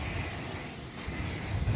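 An American Airlines Boeing 777-300ER arriving at DFW Airport gives off a steady jet engine roar, fairly faint and distant, with no talk over it.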